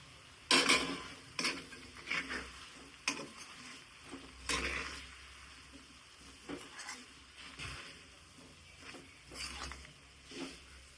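A spoon stirs ground roasted spices into raw turmeric pickle in a pan, giving irregular scraping clinks and soft patters spaced across the stretch, close and fairly quiet.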